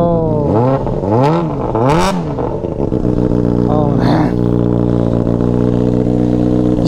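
A Honda CBR 600RR with a loud Yoshimura slip-on exhaust revs hard nearby, several rising and falling blips in the first two seconds, then settles into a steady, throaty idle.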